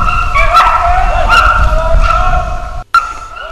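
Hunting dogs bark and yelp while chasing a wild boar boar outdoors. Several loud, close, rhythmic barks come in quick bursts over a rushing background, and a brief drop-out near the end cuts the sound.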